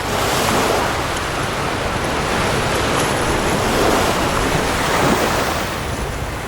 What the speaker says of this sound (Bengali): সমুদ্রে তখন ভাটার টান